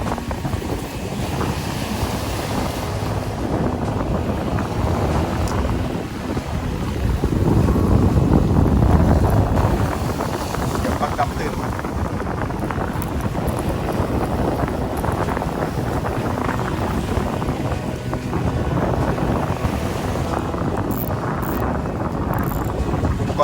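Strong onshore wind blows steadily at a seashore during shore fishing, a constant roaring rush with surf underneath that swells louder midway.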